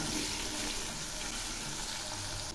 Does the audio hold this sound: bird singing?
no